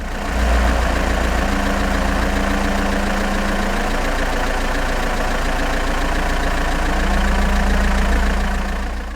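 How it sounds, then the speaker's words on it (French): Two identical cars idling side by side, a steady low engine drone with constant hum and faint rhythmic pulsing, loud and unbroken, with no voices. "Lorsque les deux voitures fonctionnent ensemble"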